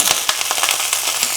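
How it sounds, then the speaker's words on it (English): French beans going into a hot frying pan with shallots, onions and garlic, giving a loud, close, steady sizzle and crackle with sharp pops scattered throughout. "Now put in the French beans."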